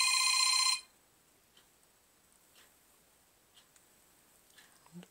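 A Droid RAZR phone in an Otter Box case plays its ringtone loudly as a bright, repeating electronic trill that lasts under a second, then cuts off and leaves near silence with faint ticks.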